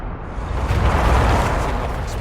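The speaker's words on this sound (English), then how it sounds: "Setting off explosions in an underground ruin." Deep rumbling explosions go off in an underground ruin in Dragon Age Inquisition, a sustained loud roar with a heavy low-end boom that swells and fades over about two seconds, with no voices.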